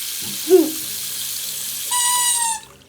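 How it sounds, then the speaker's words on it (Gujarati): A tap runs fast for a brief burst near the end, a hissing gush of water with a whistling tone before it cuts off, after an earlier short squeak. "કેટલો સરસ પાણી બી કેટલું ફાસ્ટ આવે"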